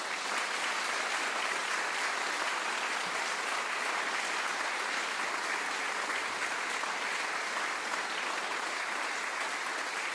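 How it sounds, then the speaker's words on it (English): Studio audience at the WoodSongs Old Time Radio Hour applauding on cue, an unbroken, even wash of many hands clapping that stays steady and fairly distant for the whole stretch, with no voices over it. "look at the WoodSong sign and applaud"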